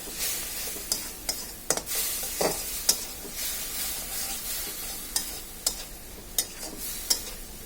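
Prawns fry in a pan with chili and turmeric, a steady sizzle running throughout while a utensil scrapes and knocks against the pan in irregular close taps.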